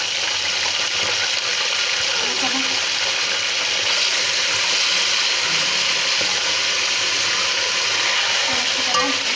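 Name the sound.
chicken being stirred and fried in a pot with salt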